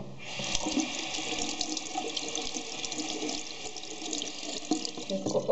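Steady running water from a tap splashes continuously as a makeup brush is rinsed under it, close and fairly loud, with no talking.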